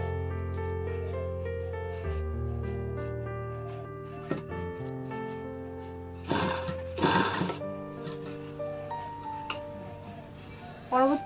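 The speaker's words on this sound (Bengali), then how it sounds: "এই দেখুন আমি সেলাই করছি" A sewing machine stitching a frill sleeve runs in two short, buzzing bursts midway and a brief one near the end, set against a steady melodic background.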